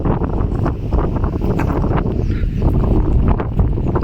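Strong wind roars across the microphone on a fishing outing in stormy, cyclone weather, a loud, steady rushing buffet with gusting swells and no voices.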